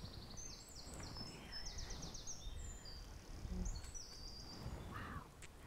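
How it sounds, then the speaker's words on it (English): Birds sing and chirp in a Victorian cemetery in Falmouth, with several overlapping high, trilling songs and repeated chirps at a moderate distance over a steady low outdoor rumble, insects faintly present. "we've heard so much bird song"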